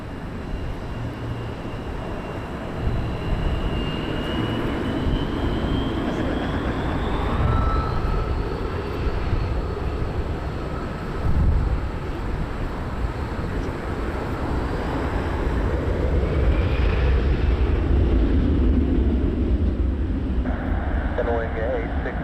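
Jet airliner departing Montréal-Trudeau airport, a steady broad roar building over the runway with a rising whine, continuous and fairly loud, with faint radio talk in the background.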